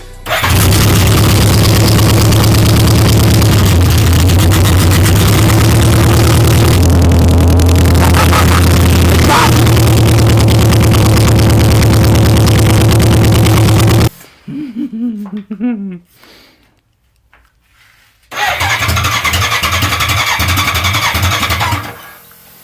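A 1983 BMW K100 motorcycle engine, cold and stalling with a little throttle, runs loud and close, then cuts out and restarts, with a brief quieter stretch in between.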